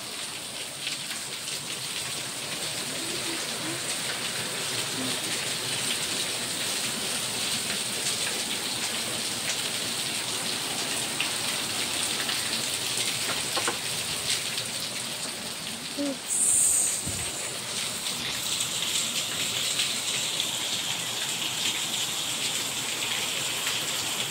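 Heavy monsoon rain pours in Mumbai as a dense, unbroken hiss of drops on surfaces, with a brief knock partway through.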